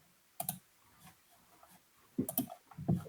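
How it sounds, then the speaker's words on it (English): During a livestream call, mouse or keyboard clicks come through faintly in a quiet room: a single click, then a few quick clusters of two or three clicks near the end. "But who's clicking around?"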